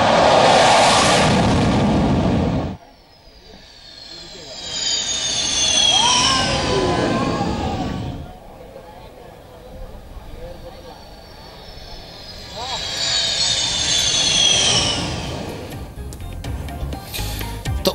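Sukhoi-30 fighter jets make low passes over the Agra-Lucknow Expressway, each a loud roaring whoosh that swells and fades, with a public-address voice announcing in Hindi between passes.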